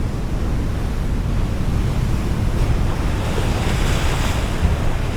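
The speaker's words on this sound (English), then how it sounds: "Sea foam is produced when the winds and stormy swells churn the cold ocean" Cold ocean surf churns against a rocky shore under stormy swells, a continuous loud roar of breaking waves mixed with heavy wind buffeting the microphone.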